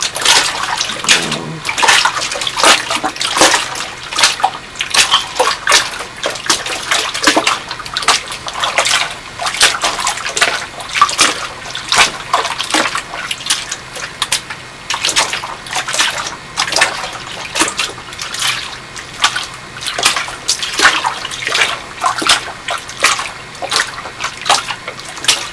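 Clothes are plunged by hand again and again into a water-filled plastic storage bin, giving continuous close splashing and sloshing with rhythmic surges of churning water.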